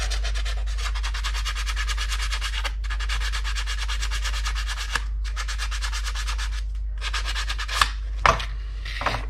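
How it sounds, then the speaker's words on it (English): Sandpaper rubs aftermarket front-end parts on a Traxxas Slash no-prep drag car in steady, even back-and-forth strokes. The rasping is close and continuous, with brief pauses and a couple of small knocks near the end. "So I'm going to go get some sandpaper so we can fix that."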